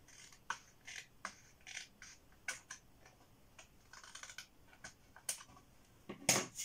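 Paper trimmed with scissors while assembling a handmade mini album, a string of short, sharp snips and clicks at close range with no voices.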